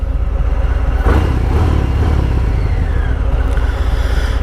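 A Harley motorcycle engine cranks and catches, a loud, close, rumbling low-pitched idle with a burst of clatter as it starts, then a steady throb.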